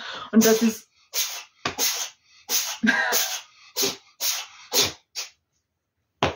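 Repeated sneezes and sneeze-like bursts indoors, about eight or nine short explosive blasts spread across several seconds, close and loud, with brief speech mixed in.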